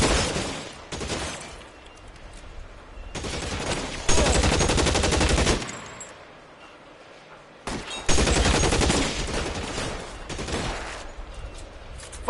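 A shootout in L.A. Noire: loud bursts of automatic gunfire and rapid shots arrive in several heavy volleys, with quieter stretches of sporadic firing between them.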